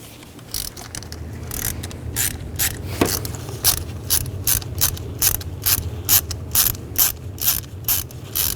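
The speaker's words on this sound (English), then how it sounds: "Take a 5/8 spark plug socket and a long extension and remove the plug." A ratchet with a 5/8 spark plug socket and long extension loosens a spark plug on a 2010-16 Buick LaCrosse, giving a close, steady run of rapid clicking pawl bursts in repeated strokes.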